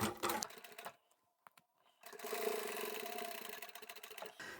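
A sewing machine runs a zigzag stitch along the edge of a plain fabric cushion cover. Its steady mechanical whirring stops for about a second, with a couple of faint clicks, and then resumes at a constant close hum.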